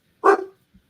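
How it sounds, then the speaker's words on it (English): A single short dog bark rings out close by in a quiet indoor room during an online conversation, followed by a faint soft thump, with no talk over it. "But yeah, sorry about the dog."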